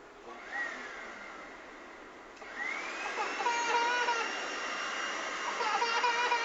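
An indoor vacuum cleaner runs with a rising whine as its motor spins up partway through, a moderately loud, steady hum, with faint voices nearby.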